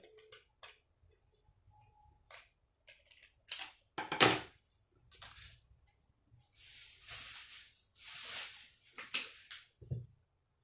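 Scissors cutting paper for a hanging twirl kids' craft, with scattered snips and clicks, then a few longer rustling cuts, close and fairly quiet.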